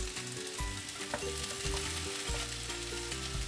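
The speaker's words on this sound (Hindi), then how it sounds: "अब मैं ऐड कर देती हूँ गाजर, बेबी कॉर्न" Carrots and baby corn stir-frying in a hot pan, a loud continuous sizzle layered with repeated scraping stirs of a spatula, close and busy, no voices.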